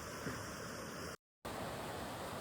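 At the starting point of a waterfall during monsoon rain at Igatpuri, rushing water forms a faint, steady broadband roar, broken by a brief silent gap.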